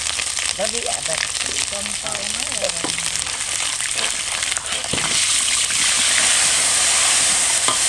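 Cauliflower frying in a pan in a village home kitchen, a steady crackling sizzle that grows louder and denser in the second half, with voices talking over it early on.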